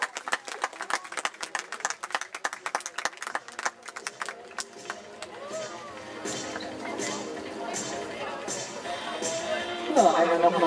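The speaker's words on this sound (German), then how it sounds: "einmal nochmal dicker Applaus" Clapping crowd applauding riders at an Icelandic horse tölt final at Schurrenhof, sharp rhythmic claps fading into a broader applause wash, with an announcer's voice and music over the later part.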